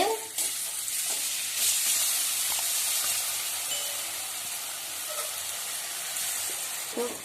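Rice flour is scattered into hot oil and stirred, giving a steady, fairly loud sizzle and hiss with occasional scraping clicks throughout.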